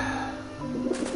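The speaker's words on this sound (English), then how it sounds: "Run, you pigeons, it's Robert Frost" Pigeons coo softly in the video game Grim Fandango, a brief low warbling call over a steady hum of game background sound.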